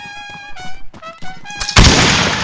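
A sharp gunshot blast lands near the end amid battle in Blood & Iron, preceded by tonal game sounds and chatter, then a loud noisy burst that lingers.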